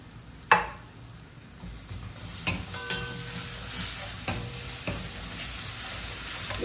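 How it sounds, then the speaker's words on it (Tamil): Ginger garlic paste sautéing with green chillies in a pan for Bombay chutney, a steady sizzle broken by several sharp spoon scrapes and clinks against the pan, close and alone. "வதக்கி விடுங்க"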